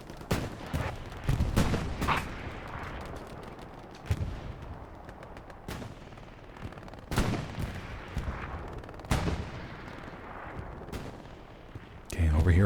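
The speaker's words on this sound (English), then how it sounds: "artillery is going to be able to lock down that road right there" Artillery shells crash and boom repeatedly in the World War II game Hell Let Loose during a competitive 49 vs 49 match, with heavy impacts every second or two, some near and loud, others more distant, amid scattered gunfire.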